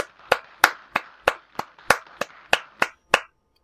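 A single person claps their hands about ten times in a steady, slightly uneven rhythm. The claps are sharp and close, there is no talking, and the clapping then stops.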